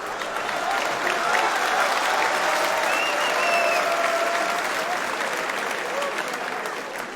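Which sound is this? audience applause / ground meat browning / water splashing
audience applause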